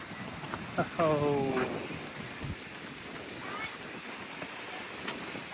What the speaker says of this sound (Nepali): हावा धेरै चलेर होला पुरा छालाहरू आइरहेको छ